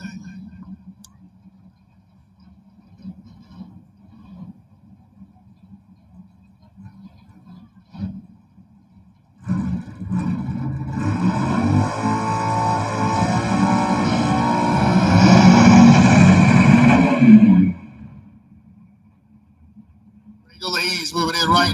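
Stick shift drag race cars, a Mercury Capri against a Ford Mustang, launch at the Stick Shift Nationals. Engines idle low at first, then burst into a loud, rising roar that climbs before cutting off, with an announcer talking.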